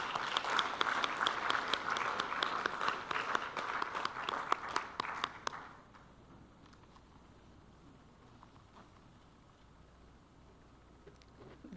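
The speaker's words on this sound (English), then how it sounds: "you deserve some applause too" Audience applause at a peace and security forum plenary, a dense patter of many hands filling the first half and then cutting off sharply, leaving a quiet room with faint low hum.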